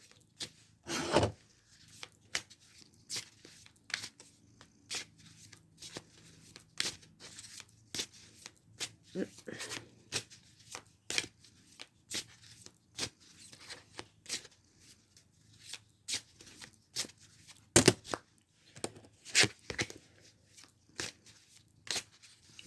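Tarot cards being shuffled for a card reading: a steady run of soft, quick riffling and sliding bursts, close and fairly quiet, with a few louder snaps of cards against each other.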